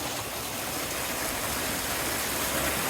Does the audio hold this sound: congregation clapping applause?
no